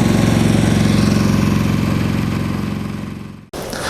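A KEMAGE KM5000io inverter petrol generator runs under load with a loud, close, steady pulsing engine drone that fades near the end before a brief clunk.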